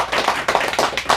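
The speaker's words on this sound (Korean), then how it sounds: "박수하겠습니다." A church audience claps at a mothers' college completion ceremony at Elim Vision Church, with a brief burst of quick, rhythmic, fairly close hand claps in regular beats.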